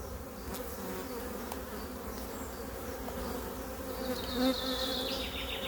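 A honeybee colony hums steadily at an open hive in mid-June, a colony set to swarm again; the dense buzz holds throughout, with a higher whining drone of bees passing close near the end.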